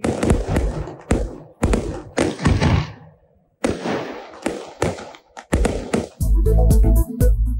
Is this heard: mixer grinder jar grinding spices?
no